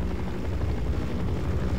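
A helicopter in the game Half-Life Source flies overhead, giving a dense, loud, steady rotor drone that fills the short moment without voices.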